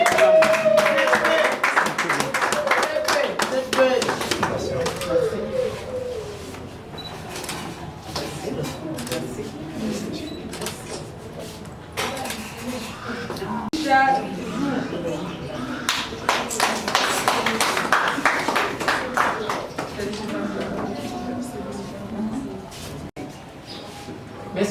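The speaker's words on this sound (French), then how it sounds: "que je vous demande d'applaudir" An audience claps at a human rights certificate ceremony, bursts of applause rising near the start and again toward the end, mixed with steady voices and room chatter throughout.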